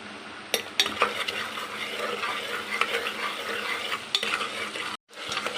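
Onions frying with salt in a pan for chicken curry, a steady close sizzle with repeated clinks and scrapes of a spoon stirring against the pan, cut by a brief silent gap near the end.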